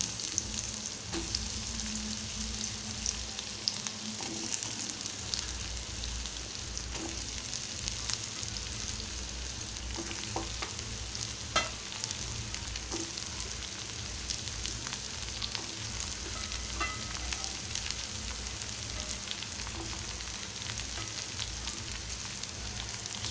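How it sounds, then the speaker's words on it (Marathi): Raw banana pieces frying in hot oil with crackled green chillies for a Malvani-style fasting vegetable dish, a steady close sizzle with occasional soft scrapes of stirring, no voices. "आता आपण कच्ची केळी घालूया।"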